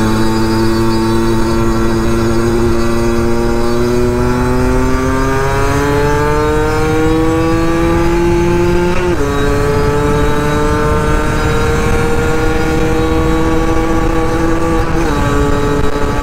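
A custom Derbi Senda XRace 50cc motorcycle engine revs loud and close, its buzzing pitch climbing smoothly and then dropping sharply between rising sweeps, as if shifting up through gears.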